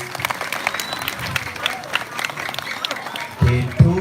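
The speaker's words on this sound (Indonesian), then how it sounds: "tepuk tangan untuk Sekanggong" Applause from a crowd at a Balinese temple ceremony, steady clapping throughout, with a louder burst of claps near the end.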